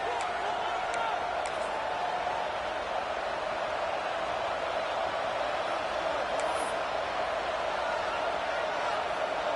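Steady, loud stadium crowd roar in college football as the home fans of Tennessee try to rattle the opposing kicker before a field goal attempt, a dense wash of noise with a few faint sharp knocks.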